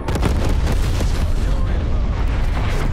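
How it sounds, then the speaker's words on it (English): Artillery strike explosions in Black Ops Cold War, a loud, dense barrage of booming blasts and rumbling impacts that fills the whole stretch. "Hostile artillery targeting active"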